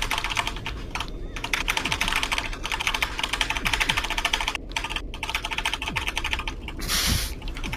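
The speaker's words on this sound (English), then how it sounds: "What did that keyboard ever do to you?" A computer keyboard is pounded hard and fast in rapid, clattering bursts throughout, close and loud, with only brief pauses, while voices talk in the background over a game session.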